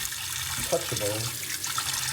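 Warm tap water runs steadily into a still-warm carbon steel pan, a continuous splashing flow with a person talking over it.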